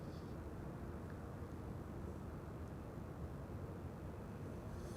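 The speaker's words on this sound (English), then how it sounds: "This is Delta Airlines Flight 56, arriving from Salt Lake City." A Delta Airlines Airbus A330 arrives at Amsterdam Schiphol with a steady, broad, low jet roar, distant to mid-range, that holds evenly throughout with no talking.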